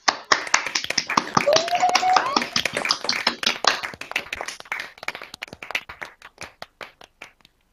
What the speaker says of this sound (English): I now warmly welcome you to unmute yourselves and cheer and clap for each other.